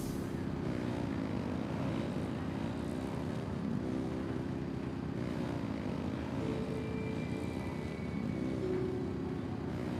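Aircraft engine running at full throttle in the Genshin Impact video game, a steady, even propeller-like drone that hums on at moderate volume without a break.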